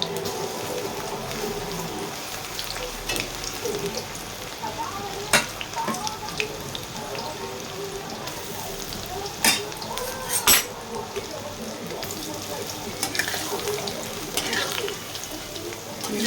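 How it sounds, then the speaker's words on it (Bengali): Baby corn pakoras fry in very hot oil in a home kitchen, giving a steady close sizzle broken by a few sharp clinks of utensils against the pan, with no talking. "আমি এখন লো ফ্লেমে একদম ভাজা করব"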